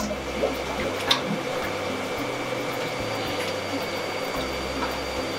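Water draining steadily out of a marine engine, a constant rushing flow with a mechanical hum, close and continuous and heard with no talking.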